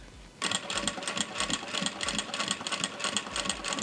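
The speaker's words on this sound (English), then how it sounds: "gonna go ahead and sew. Do not backstitch because it's vinyl." Vevor industrial sewing machine stitching vinyl: a steady, fast mechanical whir with rhythmic needle clatter that starts abruptly and runs on continuously, close and loud, with no voices.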